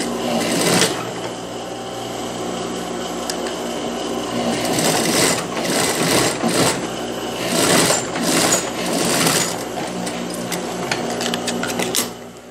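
A sewing machine runs steadily at close range as it stitches a narrow double-folded hem on a child's dress, giving a loud, continuous mechanical whir with rhythmic clatter for the whole stretch.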